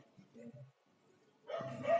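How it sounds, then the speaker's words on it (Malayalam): A puppy at a village home gives a few short, high yaps in two brief bursts, fairly close and moderately loud, with a voice nearby. "ഞാൻ ഈ വീഡിയോയ്ക്ക് വോയിസ് കൊടുക്കുന്ന സമയത്ത് പട്ടിക്കുട്ടി കുരയ്ക്കുന്നുണ്ട്."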